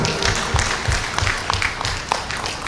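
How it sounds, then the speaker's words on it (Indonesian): Audience at a hospital staff gathering claps together, a dense wash of many hands patting in steady, uneven bursts, fairly close and sustained throughout. "Tepuk tangan untuk kita."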